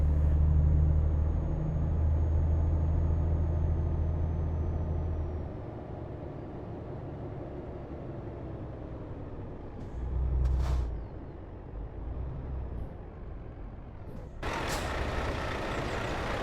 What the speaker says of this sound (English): She is quite a big truck.